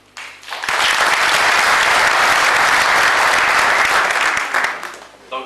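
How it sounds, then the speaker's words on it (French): A crowd at the opening ceremony of an international dental training conference breaks into loud, dense applause that swells quickly, holds steady for several seconds, then thins out as the clapping tapers off. "Donc, il faut les applaudir."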